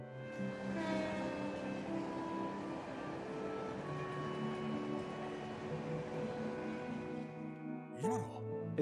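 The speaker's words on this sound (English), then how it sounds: "Is that the last train bound for Calvert?" A passing train rumbles past at night in The Legend of Heroes: Trails from Zero, a steady rolling drone with sustained tonal hum and a brief clatter near the end. No speech.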